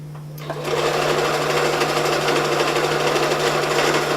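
A sewing machine runs a pillow seam on fabric, starting after a brief quiet moment and then humming and rattling at a steady fast stitch, loud and close, with no talk.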